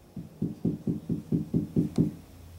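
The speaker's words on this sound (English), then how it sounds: "Could you knock on the walls or the cabinet there?" Nine evenly spaced knocks on a wall or cabinet inside a house during a ghost hunt, sounding dull and muffled at a steady quick rhythm in an otherwise quiet room.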